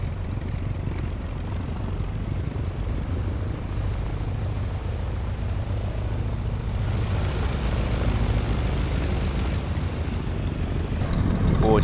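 A steady, low propeller engine of a Stearman PT-17 biplane in a flight simulator game idles with a continuous drone and rumble throughout, growing slightly louder toward the end.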